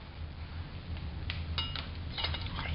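A spoon stirring in a pot on a home stove: faint scraping and light metallic clinks against the pot over a low background hum, a few soft taps close together.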